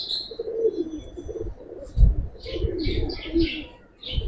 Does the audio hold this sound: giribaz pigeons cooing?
yes